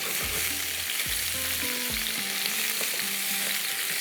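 Koftas lightly fry in hot oil with a dense, even sizzle that never lets up, joined by a few low clinks early on and no voices.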